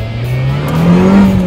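A Lotus Exige S240 sports car with a Toyota-sourced engine revs loud and close, its engine note climbing steadily in pitch, with no talking over it.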